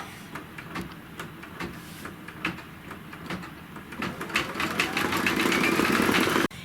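A sewing machine stitches a tack-down on a quilting project, a rapid run of needle clicks with a mechanical whir that builds into a faster, steadier hum before stopping abruptly, close by and without talk.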